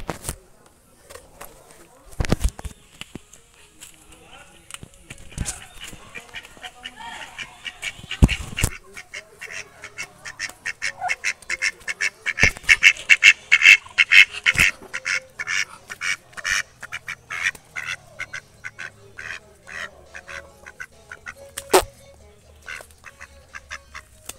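Pet ducks quack in a dense, busy run of calls that swells into a near, continuous chorus, broken by a few loud clatters and handling knocks, with a person speaking at points.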